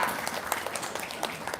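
An audience in Padang gives a short, soft round of applause, scattered hands pattering at a distance with faint voices beneath.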